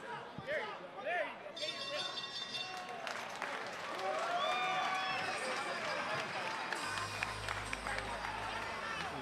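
A boxing crowd at the Paramount cheers and claps between rounds, a sustained roar of applause and chatter from a large audience, with a voice speaking over it and a bell-like ring near the start.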